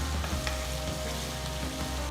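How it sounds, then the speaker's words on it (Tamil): Chopped onion sizzles and crackles steadily in a hot pan, browning for a kurma, a close, continuous frying hiss with no talking. "இது கூட பொடுசா நறுக்குன 1 பெரிய வெங்காயம் சேர்த்து நல்ல பொன்னிறமா வதக்குங்க"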